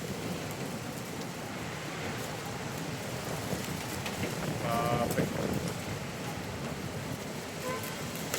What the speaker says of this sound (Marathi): हे बघा झाडांचा इतका आवाज येतोय